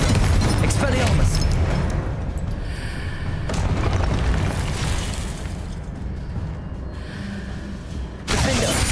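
Explosive Confringo spells go off in the video game Hogwarts Legacy as a run of loud, booming bursts layered with dense game effects, with a sharp fresh blast near the end.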